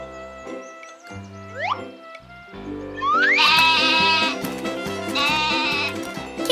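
An animated cartoon goat gives several bleats, short at first and then longer, quavering cries, loud and close against a light musical backing with no talking.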